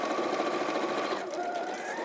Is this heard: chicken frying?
no